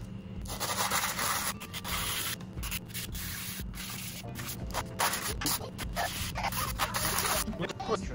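A copper busbar is rubbed with 80 grit sandpaper in quick, repeated scratchy strokes that come close and fairly loud, with brief pauses between bursts.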